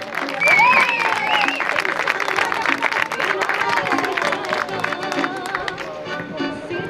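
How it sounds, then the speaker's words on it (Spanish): A crowd applauds the second-place traiñeiriña rowing crew at an outdoor regatta ceremony in Vigo, dense clapping with cheers and whistles, voices talking and calling out over it throughout. "Un aplauso, por favor."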